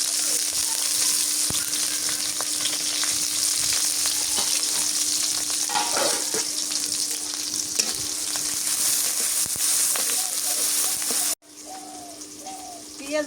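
Pui shak and taro stems with onion and green chili frying in oil, a loud, continuous close-up sizzle with occasional stirring, faint birds cooing in the background and a sudden drop near the end.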